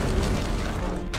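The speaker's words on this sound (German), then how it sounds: "Auch wenn die gigantische Konstantinopel-Kanone nur 7 Schuss pro Tag abfeuern kann, die Verwüstungen sind verheerend." The giant Ottoman cannon fires at the siege of Constantinople, a loud, continuous low rumbling boom that fills the whole moment and ends with a brief crackling burst.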